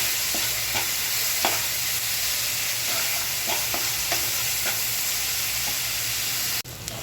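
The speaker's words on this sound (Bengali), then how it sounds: "পেঁয়াজটা একটু ভেজে নিচ্ছি।" Onion frying in oil for a kachur loti curry with dried shrimp, a steady close sizzle broken by several light spoon scrapes and stirs, ending with a brief clatter near the close.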